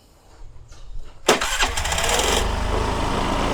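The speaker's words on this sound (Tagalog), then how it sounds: "Ngayon, susubukan naman nating i-start kung ano mangyayari." A car engine cranks briefly then catches and settles into a loud, steady, high idle after manual idle speed control adjustment, close by.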